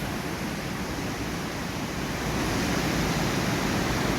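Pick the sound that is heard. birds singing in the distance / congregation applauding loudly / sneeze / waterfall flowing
waterfall flowing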